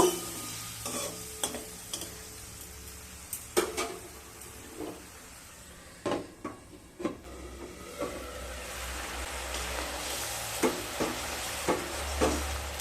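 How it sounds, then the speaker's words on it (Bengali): Spices with turmeric, chili powder and a splash of water stir-fried in a pan for a ridge gourd and prawn curry, with intermittent scraping spoon strokes over a soft sizzle, mostly quiet between stirs. "হাফ চামচ লঙ্কার গুঁড়ো আর খুব সামান্য জল দিয়ে মশলাগুলোকে আবারও খুব ভালোভাবে কষিয়ে নেব।"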